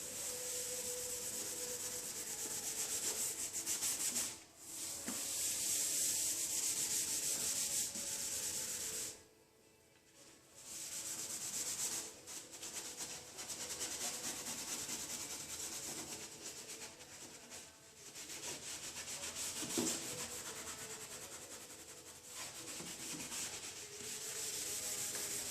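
A 2005 Toyota Highlander headlamp is scuffed by hand with wet scuff compound, producing continuous close, gritty rubbing that pauses briefly once, then carries on around the edges.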